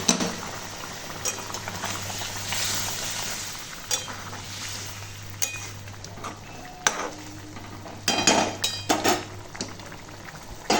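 Hot water poured into a pan of potato curry, bubbling and simmering with steady sizzling broadband hiss and occasional clinks of utensils against the pan, close and moderately loud.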